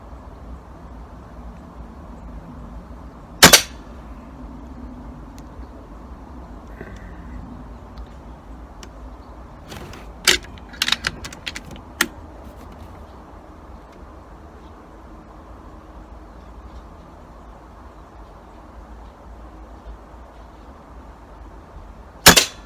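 A pellet gun fires at matches, giving sharp, sudden cracks against a quiet background: one shot, then a cluster of several snaps close together, and a last shot near the end.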